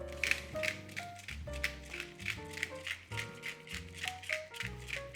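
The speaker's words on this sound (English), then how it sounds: "I used a pepper mill." Rhythmic, rattly grinding bursts of a pepper mill grinding peppercorns repeat steadily, close up, over background music.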